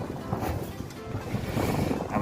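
Cold wind blowing across the waterfront in Ketchikan, Alaska, a steady broadband rush with some buffeting against the microphone and faint water or boat noise beneath, continuous throughout and without speech.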